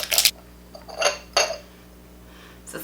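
A small pottery jar and its ceramic lid being handled, giving three short bright clinks of pottery knocking together, then a fainter tap at the end, close and quiet in an otherwise still room.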